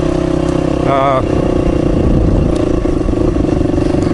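A Honda CRF230 dirt bike rides a forest trail, its engine running steadily and close by throughout, with a brief higher-pitched rev in the first second.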